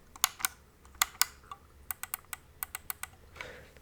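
Scroll wheel and two top buttons on a Logitech G604 gaming mouse clicking, a series of sharp, close, isolated clicks in an irregular rhythm, with no talking.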